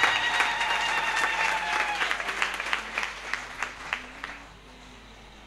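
Women of a diocese congregation clap for themselves at a church gathering in Odienné, a dense applause that gradually thins into scattered individual claps before fading out.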